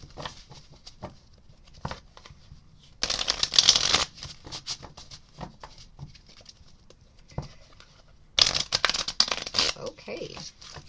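Tarot cards shuffled in two bursts of brisk riffling, close by, separated by quieter stretches with soft scattered taps and a little talk.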